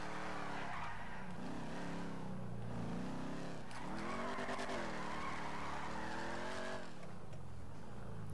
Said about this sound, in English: Little drifty drift up there.